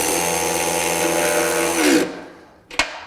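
A DeWalt Xtreme 12V cordless sealed-head ratchet runs at a steady high whine for about two seconds, then winds down and stops, ending in one sharp click.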